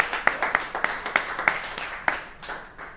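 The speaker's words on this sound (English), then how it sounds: "That's worth a round of applause, right?" A small audience at a Nebraska governor's beef program event claps in sparse, fairly evenly spaced hand claps that thin out toward the end.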